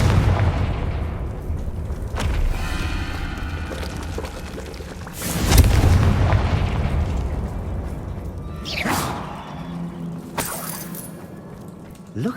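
Confringo fire spell explosions in the video game Hogwarts Legacy on PS5: several loud booming blasts with crackling, shattering debris, spaced a few seconds apart over a rumbling game soundscape.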